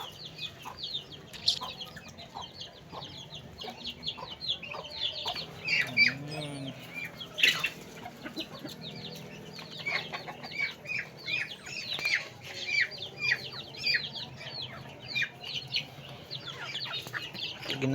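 Chickens cluck behind a house where ducks are also kept, a quiet scattering of soft clucks and small chirps from a short distance over a low background murmur.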